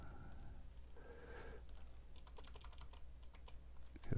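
Faint, quick keystrokes on a computer keyboard while entering a Cisco router configuration command: a short run of light clicks in an otherwise quiet room.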